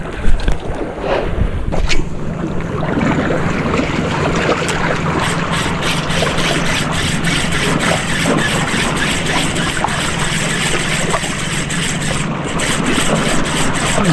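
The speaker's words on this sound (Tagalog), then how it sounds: "May bangka sa kaliwa." A boat passes on the left during a fishing outing on open water, heard as a steady engine drone mixed with wind and water noise, moderately loud and continuous, with no talking.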